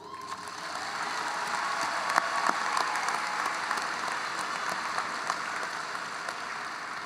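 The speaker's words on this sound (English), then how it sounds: "One more round of applause for them." An audience at a high school graduation ceremony applauds the graduating choir seniors, a sustained, even roar of clapping from a large crowd lasting throughout, with a few sharper claps standing out.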